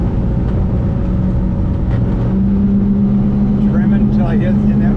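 A rebuilt outboard engine on a 20-foot custom welded boat runs at full throttle with a steady, loud drone and rising tonal whine, while someone talks over it throughout.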